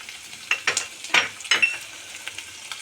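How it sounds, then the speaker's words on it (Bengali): Ground ginger, cumin and coriander paste with chilli powder sizzling alongside fried potatoes in a pan for vegetarian ghugni, with a steady close fry broken by several sharp stirring scrapes and spatters. "আলুটা ভাজা ভাজা হয়ে গেছে। এবার একে একে মশলাগুলো সব দিয়ে দেব।"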